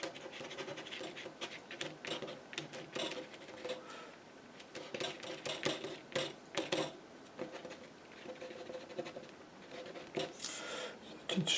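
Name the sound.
card scraping into paint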